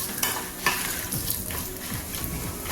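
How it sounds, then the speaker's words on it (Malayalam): Whole spices, including cardamom, sizzling and crackling in a hot pan, with a utensil stirring and scraping now and then, close and steady. "ഒരു മൂന്ന് ഏലക്ക ഇട്ട് കൊടുത്തിട്ടുണ്ട് ഇതൊന്ന് വറുത്തെടുക്കാം"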